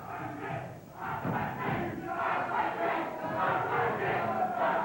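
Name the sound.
spirited crowd at a wrestling studio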